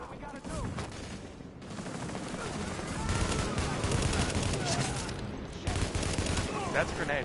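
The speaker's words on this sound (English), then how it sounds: "That's a grenade." Loud, sustained gunfire and explosive blasts in the Tom Clancy's The Division beta game, with dense bursts of shooting and a heavy grenade-like boom rolling through a continuous battle din.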